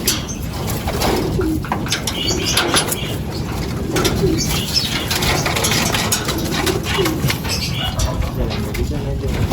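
Racing pigeons at a fun race in Calamba, Laguna coo steadily and softly at close range, with a continuous soft rustle throughout and no clear wing flaps.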